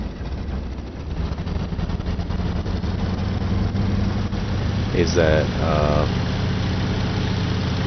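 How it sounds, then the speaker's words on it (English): In the IL-2 Cliffs of Dover flight sim, a WWII aircraft engine, magnetos switched on, is cranked and settles into a steady rough idle, a constant low drone with a brief spoken question near the end. "I'll turn the magnetos on, and then I'll crank the engine."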